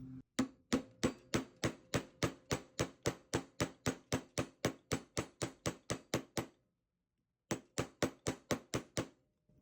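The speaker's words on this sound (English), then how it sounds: "Pick an angle and start hammering" Steady, evenly spaced hammer strikes on wire against metal while shaping a ring, about three per second, a brief pause, then another quick run of blows, close and crisp.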